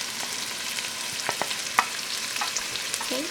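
Onion being stirred in butter in a saucepan while making a butter sauce: a soft steady sizzle with faint scraping strokes and a few light clicks of the spoon, close by, no talking.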